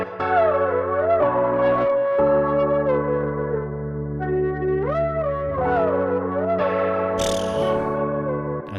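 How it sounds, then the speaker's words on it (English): A hip-hop beat sample of sustained, bell-like tonal chords and sliding melodic notes plays with added compression, delay and distortion, giving a gritty, echoing texture, with a brief bright noisy burst near the end and no talking. "Also add some distortion to that."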